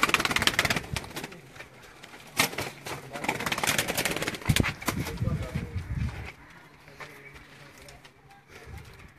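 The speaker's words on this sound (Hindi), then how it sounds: "ये वाला जो कबूतर है ये भी इनका ब्रीडर कबूतर है" Breeder pigeons coo softly in a loft while people talk nearby, with sharp flapping and clattering bursts mixed in, fading to quieter murmurs toward the end.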